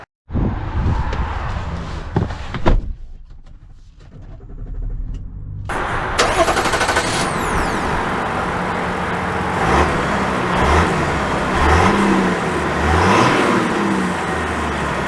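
A new Chevy Silverado Trail Boss with the Duramax diesel: a loud close engine start and idle, then a brief near-silence as it cuts out, then the engine running again and pulling away at a steady drone.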